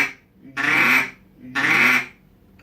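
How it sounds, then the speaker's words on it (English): Two sustained basic quacks blown on a duck call, each about half a second long, loud and close, separated by short pauses with nothing else audible. "on the basic quack, all you have to do is basically hum into the call."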